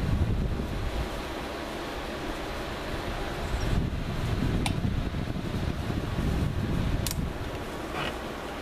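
A small USB-powered oscillating desk fan runs with a steady, close airy whoosh, the rush of air swelling and easing slightly as it sweeps, with a couple of faint clicks and no talking.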